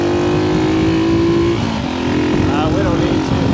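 A vintage 1964 Honda C200 motorcycle revs hard against its rev limiter, a loud buzzing whine that holds high, dips briefly and climbs again, close up while a rider speaks.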